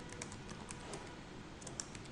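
Rapid, even keystrokes patter on a computer keyboard while a database query is typed, a steady close clatter over faint room noise.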